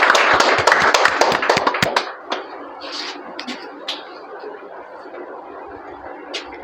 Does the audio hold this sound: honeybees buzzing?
no